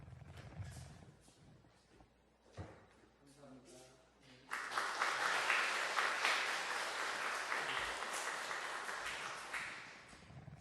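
A church congregation at a Sunday service breaks into loud, sustained applause that begins abruptly partway through and continues to the end, after a short stretch of speech-like sound.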